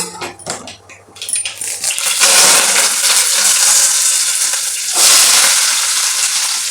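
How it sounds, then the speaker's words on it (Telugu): Tempering seeds and raw onions fry in a hot pan, giving a loud, steady sizzle broken by short clinks and scrapes near the start, then rising into a dense hiss that swells again toward the end. "తాలింపు గింజలు వేగినాయి అని చెప్పి ఆంధ్ర ఉల్లిపాయలు కూడా వేసేసాను"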